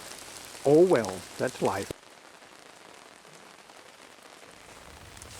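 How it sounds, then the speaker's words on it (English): Heavy rain falls in a dense, steady hiss on a hunting trip, drumming on surfaces close by. Someone speaks briefly at the start, then the downpour continues alone. "Rain, rain, rain. It's been coming down in torrents."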